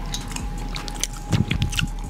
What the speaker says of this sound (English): I feel like he's not chewing it all the way.